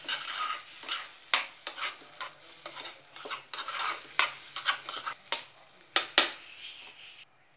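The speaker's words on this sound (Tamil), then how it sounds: "நல்லா அந்த வெங்காயத்தோட இப்படி கிண்டி விட்டுக்கோங்க." Beaten eggs and onions being stirred in a pan for a ladle omelette: repeated scraping, clinking strokes of a utensil against metal in an uneven rhythm, close and fairly clear, with a faint sizzle underneath.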